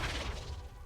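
A Flipendo knockback spell strikes in Hogwarts Legacy, a short loud crashing whack with a dense, noisy burst that fades slightly within a second.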